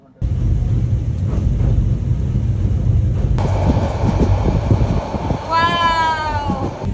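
Loud, steady rumble of a moving Bangladesh Railway passenger train heard from inside a carriage, with clattering and rattling throughout and a brief high squeal near the end.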